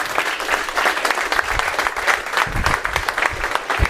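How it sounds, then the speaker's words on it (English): An audience at a business talk applauds a speaker being introduced, dense, loud continuous clapping with some crowd noise, no talk over it. "And without any further ado, huge round of applause for Joshua Latimer."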